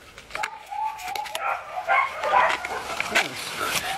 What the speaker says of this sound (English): Because that doggy's barking in the background there.